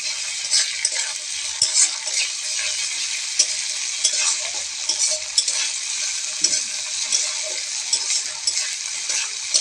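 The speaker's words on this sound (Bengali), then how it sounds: "আদা বাটা, রসুন বাটা দিয়ে দিলাম, দিয়ে নাড়াতে থাকবো।" Ginger and garlic paste stirred into fried onions in a frying pan for a fish dish, a dense bright sizzle running throughout with regular scraping strokes of the spatula, close and loud with no voices.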